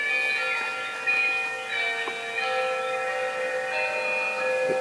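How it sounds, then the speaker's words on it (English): A miniature church on a model railroad layout plays carillon chimes through a small speaker, a steady sequence of bright ringing bell tones sounding alone and fairly close. "we've got like a church that has a carillon"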